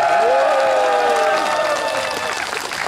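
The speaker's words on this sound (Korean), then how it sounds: "큰 박수로 바다를 향해 박수하고 함성을 보내주시면 고맙겠습니다" Crowd applause and cheering sent toward the sea at a naval band and traditional orchestra concert at the Uldolmok strait, loud and continuous, with a sustained tonal sound running beneath the clapping.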